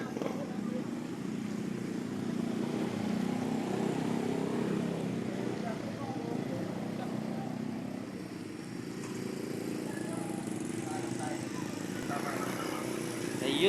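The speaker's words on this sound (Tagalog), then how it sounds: "umalis na yung tumirik ng motor" A motorcycle engine drones steadily at moderate distance as it drives off after stalling in floodwater, mixed with traffic and street noise, fading slightly midway before swelling again.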